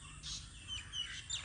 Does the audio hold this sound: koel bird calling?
yes